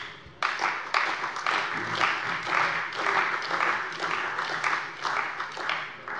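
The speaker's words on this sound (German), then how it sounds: "Applaus" Applause from the floor of a German parliament plenary session, a broad, steady wash of clapping that starts abruptly and carries on throughout, moderately loud and somewhat distant with a roomy sound.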